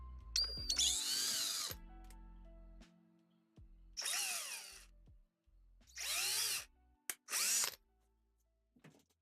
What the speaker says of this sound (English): I'm drilling into freshly printed plastic parts is because the ABS I'm using has warped a little bit